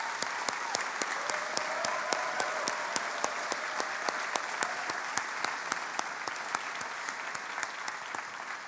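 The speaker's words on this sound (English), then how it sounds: "A huge round of applause for the love and support" A commencement crowd at a medical school graduation claps for the graduates' families. The applause is a sustained, moderate wash with sharp, distinct nearby claps standing out at a regular pace.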